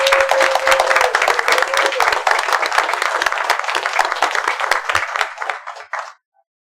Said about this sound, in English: I think every one of them deserves a very strong round of applause